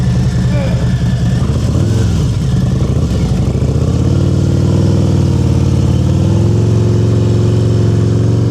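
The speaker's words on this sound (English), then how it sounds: "That's a glide stop, Amy." A motorcycle at slow speed during low-speed riding practice, its engine note easing and falling off as it glides to a smooth stop, then settling into a steady idle hum; a voice talks over the start.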